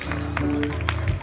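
A concert audience applauds band member introductions, a dense patter of clapping running steadily under a loud voice and held music tones.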